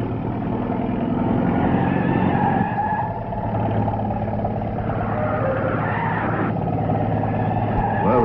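A truck drives close by with a loud engine roar and prolonged tire skidding squeals, continuous and near throughout, in a 1964 television sitcom scene.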